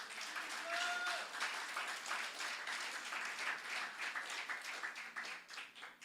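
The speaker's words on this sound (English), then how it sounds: "Somebody clap a clap offering to the name of Jesus." A church congregation claps together in a sustained, dense round of applause during a worship service, steady and fairly loud throughout with no break.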